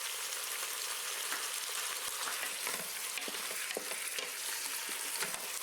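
Oxtails dropped into a hot pot before pressure cooking, a dense, close sizzle and crackle of frying that holds steady throughout with small pops and no talk.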